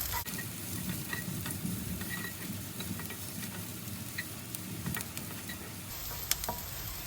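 Steady sizzling of garlic and onion frying in a pan, with occasional stirring scrapes and light ticks, continuous and fairly close.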